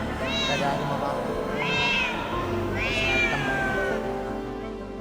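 A Busok cat, a local Indonesian breed from Sumenep, gives three clear, drawn-out meows at a steady spacing, close by, over a low background of voices.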